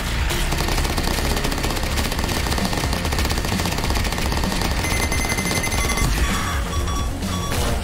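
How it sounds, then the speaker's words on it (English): Sustained, loud machine-gun-like fire in the GearBits video game as bugs shoot at the player, a dense continuous rattle with electronic tones layered over it. "Oh, the bugs are shooting at me."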